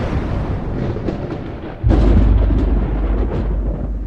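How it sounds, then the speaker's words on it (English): Loud, deep rolling thunder in a nighttime horror scene, a steady rumble that swells abruptly partway through into a heavier, booming roar and keeps rumbling to the end. "It sounded like rolling thunder."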